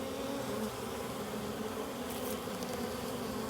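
Honeybees swarm around an open hive and a pot of honey, their dense, continuous buzzing steady and close throughout, with a few brief higher whines from individual bees passing near.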